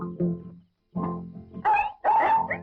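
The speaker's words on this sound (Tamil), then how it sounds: "நம்ம நாய் இப்பதான் கலைக்குது சோம்பேறி நாய்" A dog tied up at the front door barks in several loud, close bursts separated by short pauses, the later barks higher and more strained, almost howling, with no voices.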